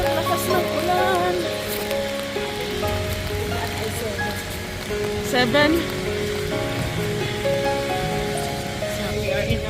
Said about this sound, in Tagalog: Super lakas ng ulan.